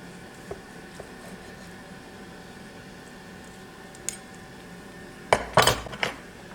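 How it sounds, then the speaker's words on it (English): A knife and fork cut into an air-fried ribeye steak on a plate: near-silence with a few faint ticks, then a short cluster of metallic clinks and scrapes near the end. "we'll go ahead and cut into this one"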